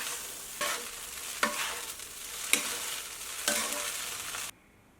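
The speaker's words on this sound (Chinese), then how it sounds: "然后加入盐、辣椒粉、孜然粉、花椒粉，再淋一点小磨香油，搅拌均匀就可以出锅了" Stir-fried potato shreds seasoned with salt, chili powder, cumin, Sichuan pepper powder and sesame oil are tossed in a wok, with a steady sizzle broken by four scraping strokes before the sound cuts off abruptly.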